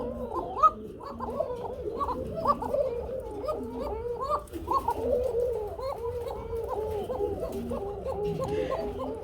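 Danish Koka pigeons coo continuously in a rhythmic, overlapping series of close, throaty calls, with faint background noise.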